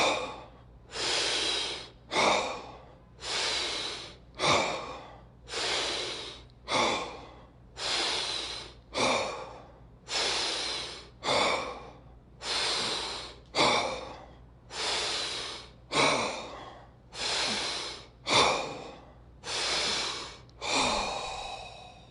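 Deep rhythmic breaths from a breathwork round, each a strong inhale and exhale in a steady repeating cycle, about a dozen close, loud breaths with no talking.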